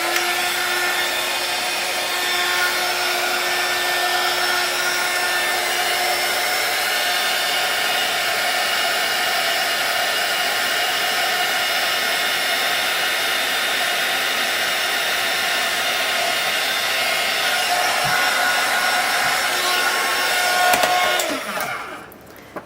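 A heat embossing tool melts embossing powder on a handmade notecard, giving a loud, steady blowing whir that runs unbroken at close range before cutting off near the end.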